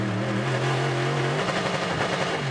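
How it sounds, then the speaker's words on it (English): A sports prototype race car in a 2012 ALMS race at Mosport drones along, then its engine note breaks up and stutters through a gear change, a steady mid-distance roar turning ragged and uneven. "Oh, that, you can hear the engine stuttering."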